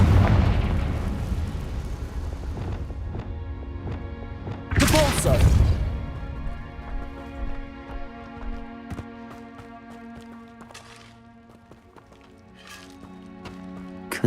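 A Confringo blasting spell in Hogwarts Legacy sets off a sharp explosion with a rumbling, crackling tail, followed by lingering debris clatter and ringing tones, set against a game soundscape with a voice heard at times.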